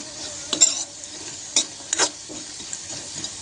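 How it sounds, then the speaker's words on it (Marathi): Potato pieces frying in a pan for a peanut potato fry, a low crackling sizzle broken by several short scraping stirs of a spatula, close up with no talking. "बटाटा बघा कसं छान असं फ्राय झालेला आहे"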